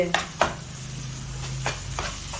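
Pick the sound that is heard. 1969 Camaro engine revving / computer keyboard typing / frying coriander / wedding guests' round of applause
frying coriander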